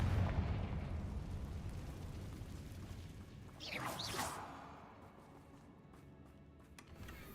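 A Confringo spell explodes in the Hogwarts Legacy video game, a heavy booming blast up front that rumbles and fades, followed by a swooshing, crackling flare midway and a quieter tail.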